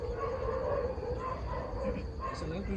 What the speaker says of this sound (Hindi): कुत्ते भौंक रहे हैं बहुत करीब से